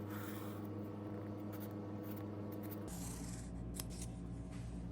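Scissors cut through a paper template for a motorized bicycle part, giving close, fairly quiet snipping and rustling that shifts in texture partway through, with no talking.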